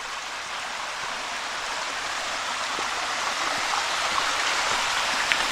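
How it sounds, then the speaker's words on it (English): A small waterfall on a Pennsylvania hiking trail rushes with a steady, full hiss of falling water, constant and fairly close, with no voices. "looks like there's a decent little waterfall up here."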